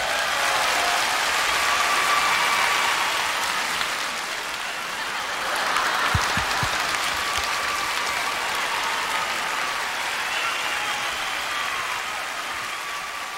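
Applause from a concert-hall audience at a televised amateur singing contest final, a steady, dense wash of clapping that holds for the whole stretch with a slight swell midway and no talk over it.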